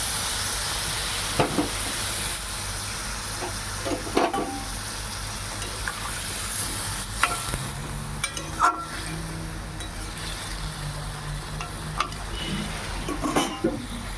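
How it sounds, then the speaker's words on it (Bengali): A pumpkin-stem, potato and lentil-dumpling curry cooks in a pan just after a little water goes in, sending up a steady hissing sizzle with scattered knocks and scrapes of stirring throughout. "এবারের মধ্যে আমি অল্প করে জল দেবো বেশি দেবো না"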